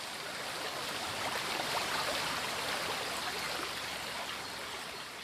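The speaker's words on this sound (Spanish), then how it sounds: "Aguas frías y cristalinas que se precipitan desde pequeñas cascadas" The Łukowica stream in Poland pours over small waterfalls, a continuous broad rushing and splashing of water, steady and moderately loud, with no voices.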